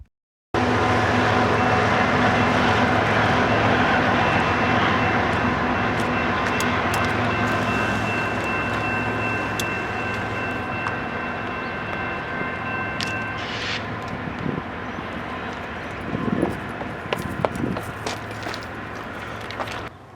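BNSF locomotive 6042 hauling a train past on the Fallbridge Subdivision in the Columbia River Gorge: a loud, steady rumble and roar for most of the passage with sustained high tones riding on top, easing off toward the end.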